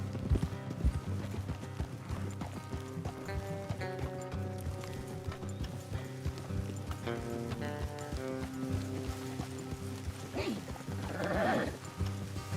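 Horse hooves clip-clop steadily over a dense backdrop of music in the video game Red Dead Redemption 2, with a brief animal-like call near the end.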